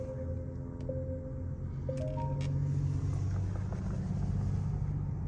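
A 2021 Genesis GV80 starts up with a brief chime and click followed by a low engine rumble that settles into a steady idle, close and moderately loud with no talk.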